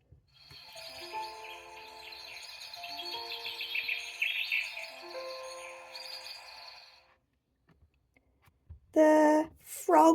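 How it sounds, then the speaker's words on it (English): Birds chirp and trill in a busy chorus from a children's noisy garden sound book for several seconds, then fade; a voice speaks briefly at the end. "The birds."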